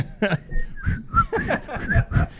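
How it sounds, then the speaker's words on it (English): Someone whistles a short tune in the background during a talk-radio show, bright brief notes weaving between steady conversation that continues underneath throughout. "you whistling in the background"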